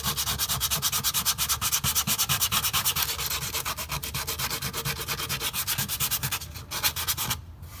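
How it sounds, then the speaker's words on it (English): Paint on a car underbody is quickly sanded back by hand before touching up with Bully rubber liner, a close, steady rhythmic rasp of rapid back-and-forth strokes that stops near the end. "just a quick sand back in that area"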